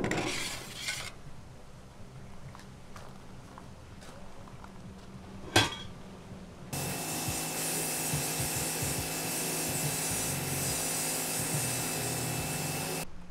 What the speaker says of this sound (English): I'm just gonna sand whatever's left because whatever is left really doesn't want to come off